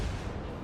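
Naval gunfire in World of Warships, a sustained low booming roar of shell fire from a friendly ship firing at an enemy vessel, steady and moderately loud throughout the short burst with no voices.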